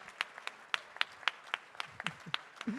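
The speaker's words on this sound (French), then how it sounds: "Voilà de vrais applaudissements." A small audience at a gardening award event gives sparse applause: about a dozen distinct, crisp handclaps at an uneven pace, fairly faint and without voices.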